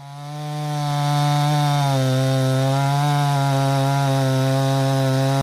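A chainsaw cuts into a tree trunk in a forest, its engine rising to a loud, steady high-revving whine held close up for several seconds before cutting off abruptly.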